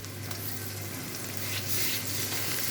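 Cauliflower fries in a pan with salt, giving a steady, close crackling sizzle with no voices.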